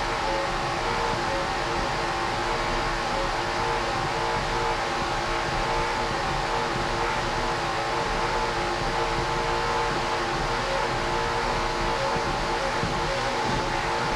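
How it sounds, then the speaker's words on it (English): Mercury-powered Skater racing powerboat engine roaring at high throttle during a race, a dense, loud, unbroken drone filling the whole stretch with no letup. "Just listen to that Mercury power plant."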